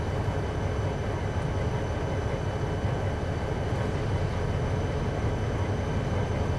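AI-controlled train moving off in Train Simulator 2012, a steady low rumble with faint tonal hum, even and continuous at moderate level with no speech.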